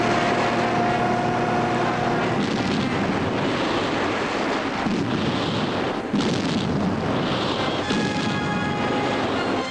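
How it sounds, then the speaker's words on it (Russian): Soviet patrol boats attacking German submarines in the Arctic during World War II, loud rumbling engines mixed with heavy booming blasts and dense battle noise filling the whole stretch without a break. "Их атаковали советские катера."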